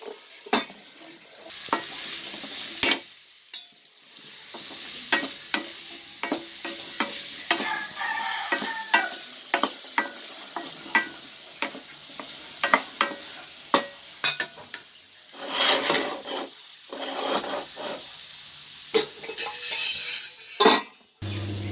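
Garlic curry (garlic kuzhambu) sautéing in a pan, with steady sizzling and frequent sharp scrapes and clinks of a spoon stirring against metal, close and fairly loud, with no talking.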